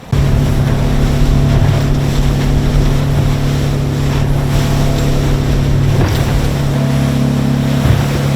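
A fishing boat motoring offshore, its engine droning steadily and loudly throughout, with wind buffeting the microphone and water rushing and splashing against the hull.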